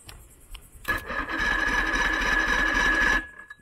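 The starter of a 90hp Johnson outboard motor on a 1987 Crestliner boat cranks it over in one continuous whirring, grinding run of about two seconds, loud and close, after a few faint knocks.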